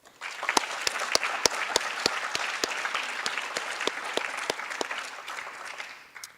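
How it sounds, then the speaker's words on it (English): Sustained applause from an audience at a 2018 academy graduation ceremony for the graduating class, dense and steady with sharp individual claps standing out, fading in at the start and trailing off near the end. "Let's give our graduates another round of applause."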